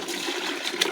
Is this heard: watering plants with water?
yes